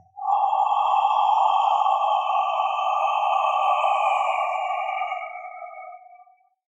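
A Chi Kung heart healing sound: one long, steady, breathy exhalation held for about six seconds at even loudness, close and alone, fading slightly at the end.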